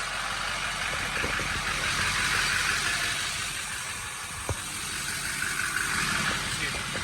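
A 2006 Chevy Silverado LBZ diesel pickup truck engine with an S&B intake and 5-inch exhaust idles with a steady low rumble, someone talking over it and a brief knock partway through.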